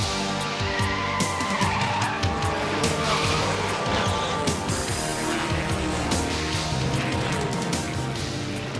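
Cartoon race car roars and skids through a race, a loud continuous engine whine with squealing tires and sliding noise throughout, dense and close, with no speech.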